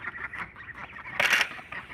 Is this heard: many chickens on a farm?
yes